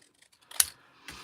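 Scissors make two quick crisp snips through a small striped green piece of paper, close and quiet, with faint rustling before and no talking.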